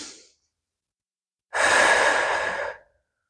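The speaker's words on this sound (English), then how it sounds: "Breathing into this twist here." A single deep, audible breath during a yoga twist in a calm flow class, a faint exhale trailing off at the start, then a long, close in-breath or exhale lasting over a second in otherwise quiet surroundings.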